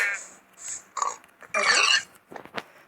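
A pig in the Minecraft video game grunts and oinks in short bursts, with a louder rough squeal-like burst in the middle and a few fainter game sounds around it.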